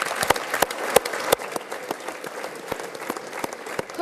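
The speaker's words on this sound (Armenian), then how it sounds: "ԵԱՀԿ նիստին հոտնկայս ծափահարում են Ուկրաինայի նախագահի հակառուսական ելույթը" Standing ovation at an OSCE session after the Ukrainian president Zelensky's anti-Russian speech: a hall of hands applauding steadily, with a few sharp, louder claps standing out near the start over the dense, even clatter.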